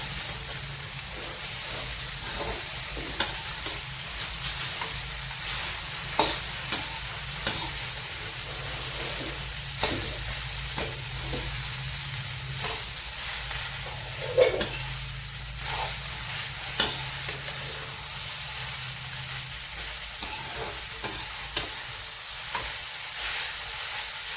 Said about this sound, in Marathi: व्यवस्थित आपण आता हा परतून घेत आहोत